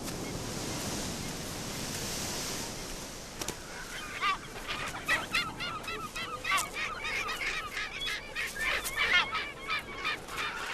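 Seabirds calling in a colony on the Crozet coast, a dense chorus of honking, squawking cries rising over steady surf noise, with the birds joining in after a few seconds of wave rush.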